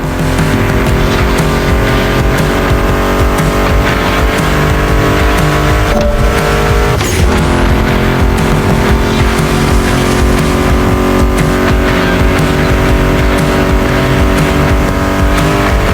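Loud, continuous roar of American muscle car engines racing in The Crew Motorfest, a sustained high-revving drone with a brief shift around the middle, mixed with background music.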